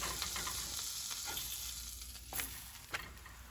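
A pizzadilla tortilla is frying in a pan, its browned side flipped over. The pan gives a steady close sizzle with a couple of brief scraping knocks from turning it, and no one speaks.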